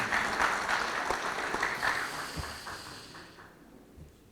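Audience clapping in a conference hall as a female panelist arrives for an industrial investment discussion; fairly loud at first, then gradually thinning and fading toward quiet.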